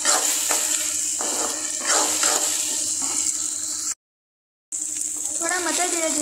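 Chopped onions fry for Desi-style Maggi, a steady hiss of sizzling in a pan with scraping stirs, under someone talking throughout, with a short silent gap.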